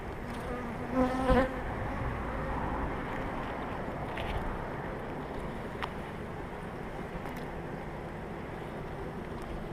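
Honeybees at a hive housing a new swarm make a steady, dense buzzing drone, close and continuous throughout, with a few louder passes of individual bees near the microphone.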